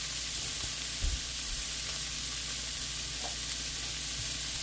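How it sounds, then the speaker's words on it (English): Vegetables sauté in butter and olive oil in a pan for a savory lamb stew, giving a steady, close sizzle with soft crackles and occasional low stirring bumps. "I'm sauteing these veggies in some butter"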